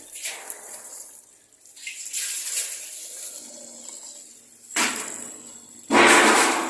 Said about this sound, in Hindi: ये इसको साफ पानी से इसको धो दें बर्तन को अच्छे तरीके से